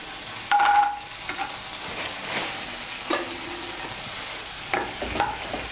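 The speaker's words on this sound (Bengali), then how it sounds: "তেলটা গরম হয়ে গিয়েছে, এর মধ্যে আমি বড়িগুলো ভেজে নিচ্ছি।" Pea lentil dumplings (bori) fry in hot mustard oil in a kadai. A steady, close sizzle runs throughout, broken by scraping stirs and a few clinks of the spatula, with no talking.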